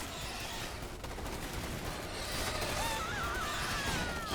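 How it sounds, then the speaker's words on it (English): Sci-fi shotguns firing in the Starship Troopers Terran Command strategy game, a dense, continuous wash of distant gunfire bursts blended with game effects and faint whistling tones, steady and moderately loud. "we're gonna pop off those little shotguns because we knew that was gonna happen"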